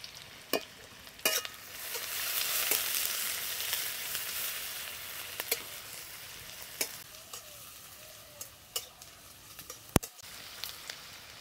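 Chopped onion, green chilli and garlic fry in hot oil for a masala crab dish, giving a continuous close sizzle with repeated sharp clacks of a spatula stirring against the pan.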